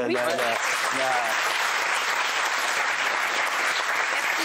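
A television studio audience bursts into sustained applause, dense steady clapping from many hands that continues evenly to the end, with a voice speaking briefly over it at the start.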